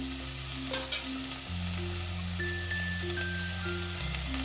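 Onions and tomatoes sauté in a pan for a fish curry, a constant close sizzle and crackle running throughout with light stirring and soft background music.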